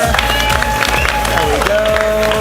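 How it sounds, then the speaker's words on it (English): An audience at a live game show event applauds and cheers for the top three players, a dense burst of clapping mixed with crowd noise and a host's voice over it. "let's give a round of applause to our top 3 players so far."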